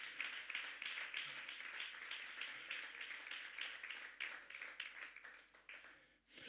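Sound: church congregation applause

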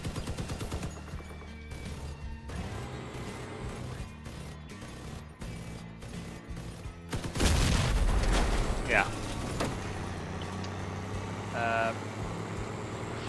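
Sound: automatic gun firing continuously in the video game Crossout

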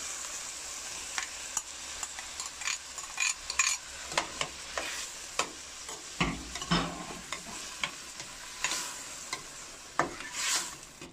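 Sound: tomato frying and being stirred in a pan

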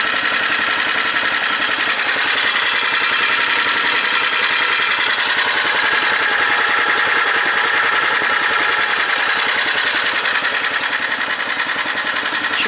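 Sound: D-250 engine idling while warming up

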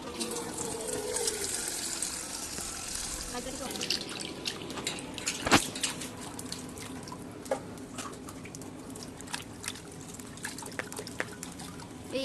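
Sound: washing kharkol leaves under water

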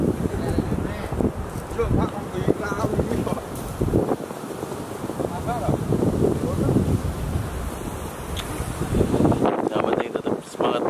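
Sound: wind blowing at sea while fishing

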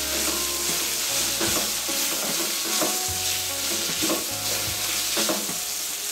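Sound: brinjal curry frying in pan

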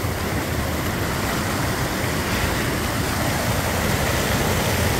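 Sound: water flowing into the Perinka cave

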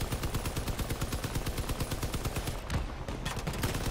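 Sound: gunfire in the video game Crossout

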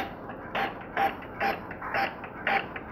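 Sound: Epson L5190 printer running a test print

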